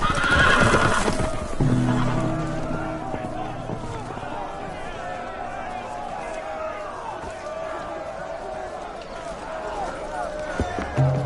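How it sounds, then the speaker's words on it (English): Horses whinny loudly near the start, then hooves thud and clatter at a run beneath a busy background of voices and commotion. "The horses! They're loose!"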